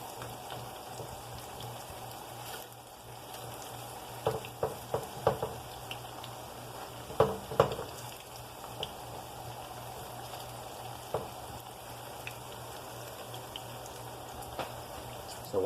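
Food frying steadily in a pan over raised heat, a continuous low sizzle with scattered crackles and a few sharper pops, fairly quiet and without talk.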